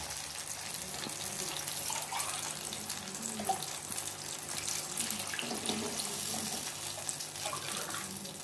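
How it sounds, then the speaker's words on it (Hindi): Water pours steadily into a cooking pan holding potatoes and cauliflower, a soft, continuous splashing trickle at close range with no talk. "अब इसमें हम लोग डाल देंगे पानी।"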